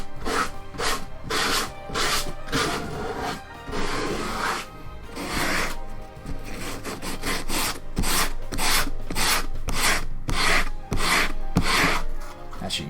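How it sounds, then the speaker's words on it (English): Sandpaper rubbed by hand over the seams of a clay pot for a zeer pot refrigerator, giving close, steady rasping strokes in a quick repeating rhythm with no talk. "just take a little bit of sandpaper. I'm just going to go over some of these seams"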